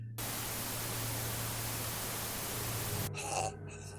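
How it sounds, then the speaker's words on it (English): A radio crackles with dense white-noise static that fills the sound for about three seconds, loud and unbroken, then drops away to softer rumbling. "a radio crackles to life. It broadcasts white noise for a few seconds"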